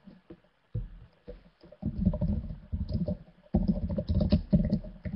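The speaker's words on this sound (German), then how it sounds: "Ich fange mal an zu tippen" Typing on a computer keyboard, with irregular bursts of soft clicks and clacks, close to the microphone, separated by short pauses in an otherwise quiet room.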